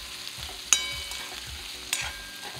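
Mixed beans, pod vegetables and carrots are sautéed and stirred with chilli and masala for a festive Bhogi vegetable dish, giving a steady soft sizzle with two sharp clicks of the spatula against the pan, close and without talk.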